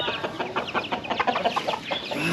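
Rooster clucking in a Thai fishing village near Ao Phang Nga, a rapid series of short, bright calls in an uneven rhythm, fairly close and loud over faint outdoor background.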